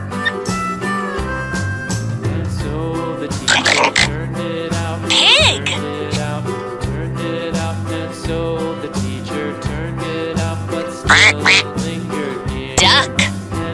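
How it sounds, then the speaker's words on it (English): A Fisher-Price Laugh & Learn Shapes & Colors Music Show toy plays a recorded duck quacking over a bouncy electronic tune, a few short quacks popping out above the music. "Duck. Duck has an orange beak."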